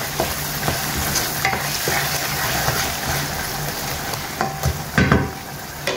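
Dal simmering in a pot while a spoon stirs it, giving a soft bubbling sizzle with scattered scrapes and clinks that stay close and steady throughout.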